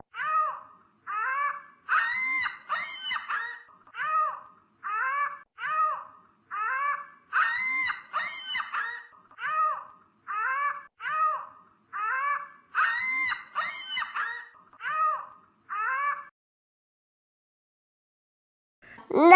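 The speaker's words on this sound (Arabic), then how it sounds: "نعامة." Ostrich calling in a long series of short, repeated booming-to-chirping pulses with a steady rhythm, fairly close and clear, ending in silence.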